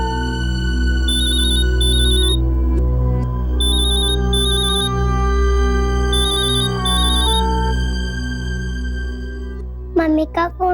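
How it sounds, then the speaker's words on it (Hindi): A telephone rings in a Hindi TV crime drama scene, a repeating electronic ringtone in bursts over steady background music, followed by a brief voice at the end. "मम्मी का फोन है।"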